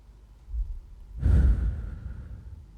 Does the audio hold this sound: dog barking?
no